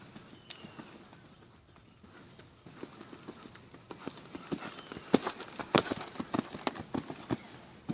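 Hooves of a ridden sport horse clip-clop in a steady, even rhythm, growing louder and crisper as the horse comes closer, with faint background noise and no speech.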